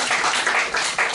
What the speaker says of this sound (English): everyone give this man a round of applause